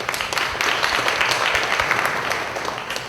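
An audience at a Monroe Rotary Club luncheon gives a dense, steady round of applause lasting a few seconds, loud and close.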